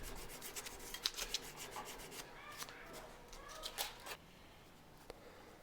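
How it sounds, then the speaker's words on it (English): Sandpaper rubbing on a desert ironwood handle of a San Mai Damascus bowie knife, quick close strokes in bursts followed by a brief quieter stretch. "Finally got it sanded up to 600 grit."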